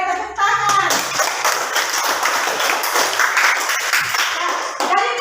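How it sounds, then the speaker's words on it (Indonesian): Students clapping in a classroom, a loud, dense burst of hand claps from a group nearby, sustained for several seconds after a brief voice at the start. "Oke, tepuk tangan."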